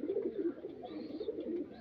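Pigeons coo in a pigeon loft, a soft, continuous, overlapping murmur of low throaty calls from several birds close by, with no talking.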